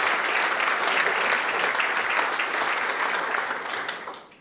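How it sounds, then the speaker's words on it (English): Sustained audience applause fills a room at an evening awards ceremony for finalists, steady and dense throughout before tapering off at the end, with no talking over it. "I think we should give them another round of applause."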